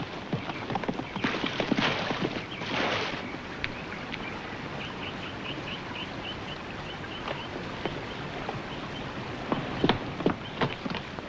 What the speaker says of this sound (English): my horse left me. He threw me and ran away.